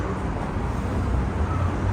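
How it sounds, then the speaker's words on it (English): Cars roar past on the Las Vegas Strip, a dense, constant wash of loud traffic noise heard close by from the sidewalk, with no distinct horns or voices. "the loud ass cars and their horns"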